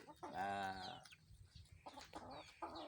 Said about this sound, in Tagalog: Ito, manok.